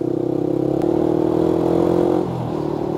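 Motorcycle with a loud aftermarket exhaust, running low on petrol, its engine thumping steadily and close, a brief revving swell, then settling back to idle.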